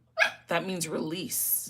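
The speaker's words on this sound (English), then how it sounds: "That's my dog." A dog gives a quick bark or two close by at the start, then a person talks steadily over a faint low indoor hum.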